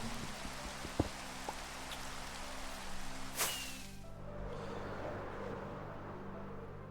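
Rain in the Minecraft video game falls as a soft, steady hiss throughout, faint and continuous, with a few light ticks and a brief swell partway through.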